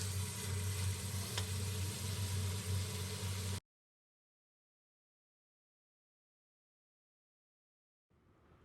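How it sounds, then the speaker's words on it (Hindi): Potatoes and meat frying in a pan for aloo gosht salan, a dense, steady sizzle with a low hum underneath for a few seconds, then sudden silence and faint noise returning at the end. "आलू ऐड करके इसको अच्छे से मैंने भून लिया"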